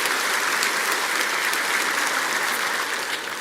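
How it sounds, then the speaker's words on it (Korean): A church congregation at Ansan Bitna Church claps to welcome visitors, a steady, even wash of applause with no break and no voices over it. "여러분 우리 모두 박수로 또 환영합시다"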